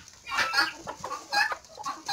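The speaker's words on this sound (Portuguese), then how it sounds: "Ali é o galo de pescoço pelado que chama João." A naked neck rooster clucks in a farmyard, several short close bursts in an uneven rhythm over about two seconds.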